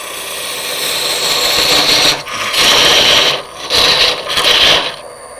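A wooden sphere spins on a lathe while a turning tool cuts it, producing a harsh, close scraping rasp in several sustained passes separated by short pauses.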